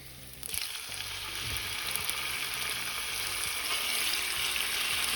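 Beef sizzling and frying in hot oil with ginger and garlic, a steady bright crackle that swells slightly after a sharp start and continues evenly, close up.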